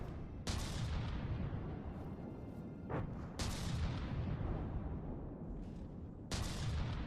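A railgun fires in the From The Depths video game, with three loud, sharp booming shots spaced a few seconds apart, each trailing off into a rumbling decay, plus a fainter thump between them.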